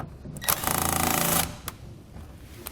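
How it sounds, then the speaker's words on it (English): Short burst of a powered driver spinning a 10mm socket on hex bolts holding a truck's front air dam, a steady buzzing whir lasting about a second, close and fairly quiet, followed by a faint click. "take off our front air dam using a 10mm socket"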